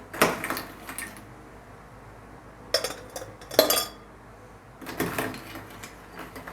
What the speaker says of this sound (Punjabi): ਆਪਾਂ ਦੋ ਗਲਾਸ ਲੈ ਲਈ ਤੇ ਇਹਦੇ ਵਿੱਚ ਆਪਾਂ ਪਾਵਾਂਗੇ ਜੀ ਬਰਫ਼